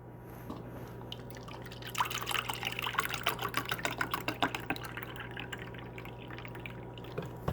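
Beef broth pours from a carton into a measuring cup in a kitchen, making a steady, close liquid trickle and splash that grows busier midway, over a low constant hum, with no talking.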